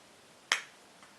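A single sharp squelching pop from squeezing a tube of The Ordinary primer, a short bright burst standing alone in a quiet room, with a faint second click just after.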